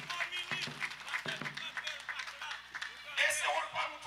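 Scattered clapping that builds into brief applause from an audience at a stadium changing-room gathering, near and moderately loud, with voices talking over it.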